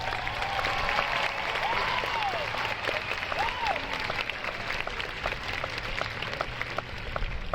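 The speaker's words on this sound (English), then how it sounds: "Please join me in a round of applause for our top scholars." At a class of 2022 commencement ceremony, an audience gives steady applause for the top scholars, moderately loud clapping that carries on evenly, with a few faint whistles and cheers mixed in.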